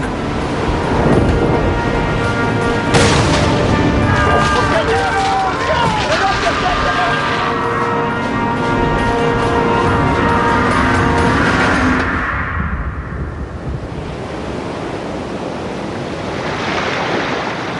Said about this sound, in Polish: Sześć dni później na morzu wybuchł sztorm.